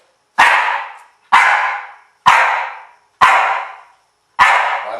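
Dog barking on command during obedience training, five sharp, evenly spaced barks about a second apart, close and clear with silence between them.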